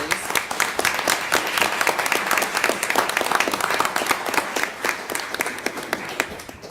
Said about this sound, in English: giving a round of applause for the fourth graders who wrote essays